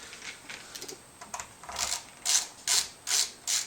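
Short set screws on a guitar pickup-position switch being tightened with a small screwdriver, producing close ratcheting clicks in uneven bursts that grow louder toward the end, with no speech.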